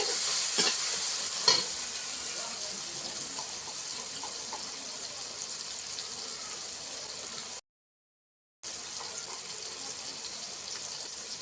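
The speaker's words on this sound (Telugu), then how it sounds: "టమాటాలు బాగా వేగిందండి" Tomatoes for a dried prawn and bottle gourd curry fry in a pan with a steady, close sizzle and a few early stirring knocks; a high whine sits over it and the sound drops out briefly near the end.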